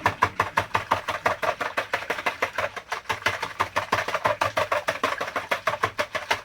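Four large eggs whisked briskly in a bowl for toad in the hole batter, a fast, steady run of sharp ticking strokes, close and fairly loud, with no talking.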